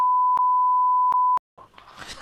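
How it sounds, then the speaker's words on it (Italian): Censor beeps from a Left 4 Dead 2 gameplay session bleeping out a curse word: a steady loud tone that drops out briefly twice, then a third short beep, before game noise takes over. "beep che devo mettere io adesso"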